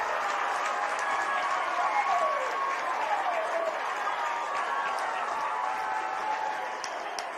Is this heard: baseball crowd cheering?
yes